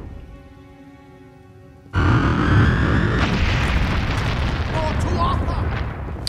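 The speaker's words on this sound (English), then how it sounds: "Oh, it's one of those bombs." A bomb blast in the action RPG Kingdoms of Amalur: Reckoning erupts suddenly after quiet game music, a loud booming burst that rumbles and crackles for several seconds as a voice speaks over it.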